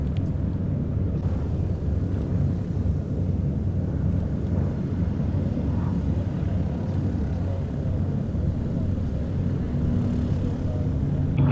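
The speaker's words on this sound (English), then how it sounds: "Final pass for the H-75 coming up." A Curtiss H-75 / P-36C fighter makes its final display pass at the Duxford Battle of Britain air show, a steady loud engine drone mixed with heavy wind buffeting throughout, no talking.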